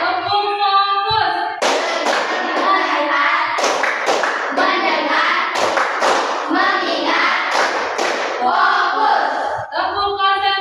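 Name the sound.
rhythmic hand clapping, 'focus' classroom clap chant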